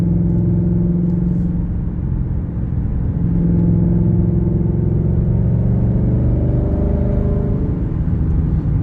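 A race truck with a Whipple supercharger rolling down the road from inside the cab, a loud steady engine drone and tyre rumble that swells slightly as it pulls along, with no talk.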